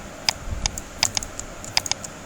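Keys on a computer keyboard click in a few quick, separate presses close by, like a modifier key held while clicking to make multiple selections, with no one talking.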